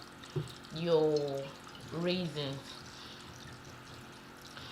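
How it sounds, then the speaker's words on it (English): Whiskey is poured over raisins to soak them for a Christmas cake, giving a soft liquid pour beneath a close voice speaking. "To soak this, you pour it until the whiskey is a little above your"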